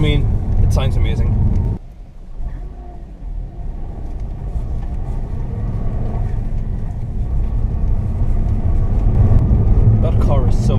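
A 2005 Subaru Impreza WRX Hawkeye on a test drive, its engine a loud continuous low rumble from inside the car that drops briefly and then builds steadily, with a few faint voice-like sounds at the edges.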